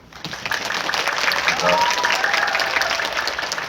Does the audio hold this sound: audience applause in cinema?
yes